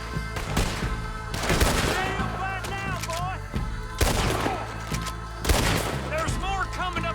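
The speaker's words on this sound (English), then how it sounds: "Somebody, I don't know who's shooting at me" Frantic gunfight in Red Dead Redemption 2, with repeated shots and bangs crackling against a dense bed of music and game noise, punctuated by a few heavier blasts; a voice talks now and then over the chaos.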